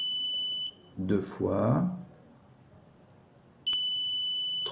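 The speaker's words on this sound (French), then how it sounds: "Bip court, silence long." Short electronic buzzer beeps, a repeating tone sounding together with an LED signal, heard at the start and again at the end with a silent gap between, while a voice speaks briefly in the middle.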